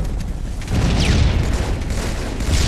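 Grenades going off during a video game match, a cluster of deep booms and crackling blasts rumbling loudly over a couple of seconds, with a brief high whistle partway through.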